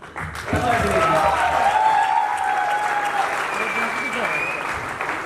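An audience at a company award ceremony applauds a family receiving a trophy, a sustained wash of clapping joined by whistling and voices, swelling quickly and then holding steady.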